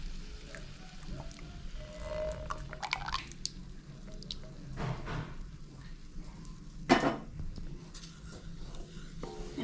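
Jaggery syrup and melted sugar are stirred together in a pan on a low flame for ginger candy, giving soft, quiet squishes and drippy liquid sounds at irregular moments.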